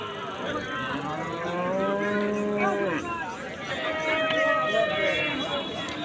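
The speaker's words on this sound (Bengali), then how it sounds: "দেখছেন কি বিশাল গরু।" Large cattle at a livestock market in Bangladesh moo in long, drawn-out calls, one after another, under steady crowd chatter and nearby voices.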